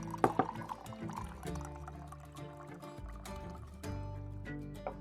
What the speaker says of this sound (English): another good nitrogen blast. Straight, 45, straight down.